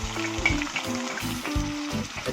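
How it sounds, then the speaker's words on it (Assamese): Onion frying in a pan with ginger-garlic paste just added, a steady loud sizzle running throughout with periodic scraping and stirring bursts, no talking. "মই এনেকৈ লৰাই থাকিম সম্পূৰ্ণ মছলাখিনি ৰঙা হৈ যোৱালৈকে ভাজি থাকিব লাগিব"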